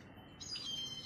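A brief, faint high-pitched call of a grey hornbill rises partway through against a quiet outdoor background.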